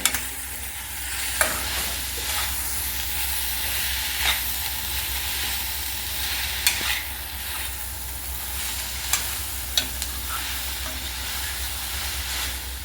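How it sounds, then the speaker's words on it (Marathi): Paneer is stirred into a soft cooking moong dal batter in a pan, making a low steady sizzle with occasional sharp clicks of a spoon against the pan. "आता आपण ह्यामध्ये पनीर टाकून घेऊया आणि छान हलवून घेऊ याला"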